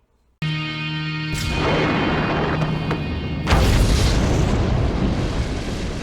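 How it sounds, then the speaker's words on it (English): Big fiery explosion from a horror film, opening with a sudden blast and rolling roar, then a second heavier boom midway that keeps rumbling loudly to the end. "And then there's this explosion"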